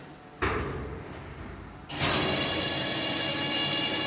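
A bin lift machine's door pulled down by hand, a sharp metallic slide at the start followed by a louder clattering close, then a steady mechanical hum from the machine.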